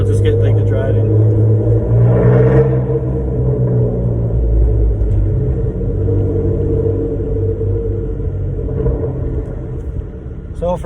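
A 2015 Chrysler 200S with a 3.6 V6 and straight-pipe exhaust drives uphill, giving a loud, steady, deep engine drone and rumble from inside the car, with a brief swell in revs early on.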